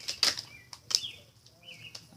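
Tarot cards shuffled by hand give a few quick, close riffling bursts and soft flutters, separated by short quiet gaps.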